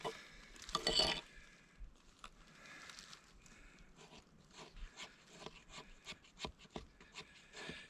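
The back of a knife scraping a fatwood stick into shavings at a hammock campsite, a close, quiet series of short, uneven rasping strokes, with one louder scrape near the start.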